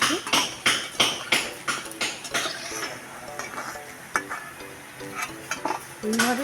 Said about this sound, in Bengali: আমি এইভাবে ভেজে নেব প্যাটিসগুলোকে